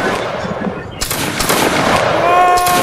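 Musket volley in a Napoleonic line battle video game, with dense crackling gunfire bursting in around a second and continuing in ragged shots, while voices shout over it.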